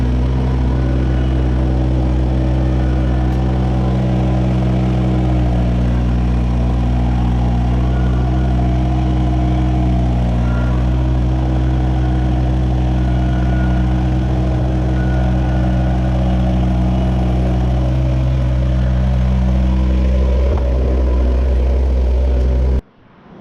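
A steady low engine drone runs throughout, a heavy Toro Mud Buggy motor idling at a constant pitch close by at a concrete pour, then cuts off abruptly at the end.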